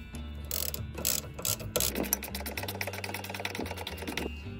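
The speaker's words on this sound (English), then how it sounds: "I've used a ratchet strap around the anti-roll bar, wrapped it around the lower suspension arm up to the chassis, and I've just tightened this up" A ratchet strap being tightened on a Ford Transit, wrapped around the anti-roll bar and lower suspension arm up to the chassis, gives a run of rapid mechanical clicks. The clicks come in steady bursts, close by, with no talk.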